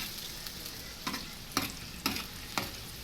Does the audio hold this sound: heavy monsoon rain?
no